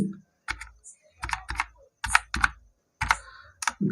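Keys clatter on a computer keyboard while a VLOOKUP formula is entered in Microsoft Excel 2016, short bursts of close, crisp clicks separated by brief pauses, with no speech.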